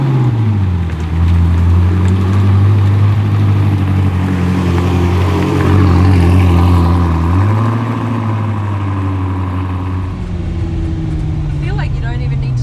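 A 1,750-horsepower supercar accelerating hard, a loud droning engine note that climbs in pitch, dips at a gear change and climbs again, with speech over it.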